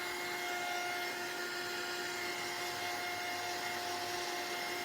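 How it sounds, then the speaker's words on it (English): Heat gun drying a mixed-media winter horse craft project, a steady close whooshing blower noise with a constant motor whine, continuous throughout with no speech. "Quick dry with the heat gun."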